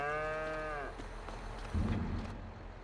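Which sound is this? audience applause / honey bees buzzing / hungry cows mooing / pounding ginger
hungry cows mooing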